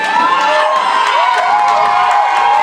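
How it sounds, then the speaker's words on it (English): A football game crowd cheers and shouts loudly and steadily in a large stadium, a continuous roar with rising whoops throughout. "Crowd getting into it."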